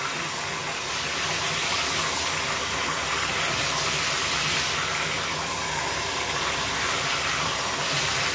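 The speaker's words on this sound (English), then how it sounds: "turn the water on, and I get most of the leaves wet first, and the shields, and I give them a good soak." Water sprays steadily from a hose onto a staghorn fern's leaves and shields, a continuous, even hiss and patter of soaking water with no pauses, close by and fairly loud.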